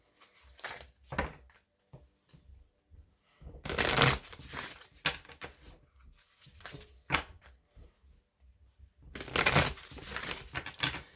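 Starseed Oracle cards are shuffled by hand in irregular riffling bursts with quiet gaps between them. The sound is close and crisp, with no speech.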